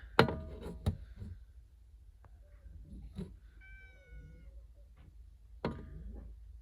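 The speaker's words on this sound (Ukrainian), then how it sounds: "Кіт кричить." A cat meows a few times nearby, short and strained, between scattered knocks and clatter in a quiet machining workshop.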